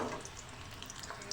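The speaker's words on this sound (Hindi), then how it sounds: "प्याज फ्राई हो रही" Thick-cut onions fry in a pan for potato biryani, making a brief, steady sizzle and crackle heard close and alone, without talking.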